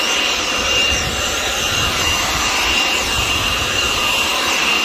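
A leaf blower roars steadily up close, blowing dust off a dance floor, with a continuous loud, breathy airflow rush that holds without a break and no voices.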